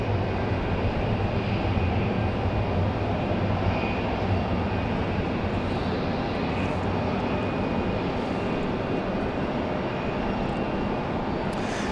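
A Delta jet airliner departs in the rain at Raleigh-Durham airport, its engines giving a steady, loud broadband roar with a faint whine that holds for the whole stretch with no talk.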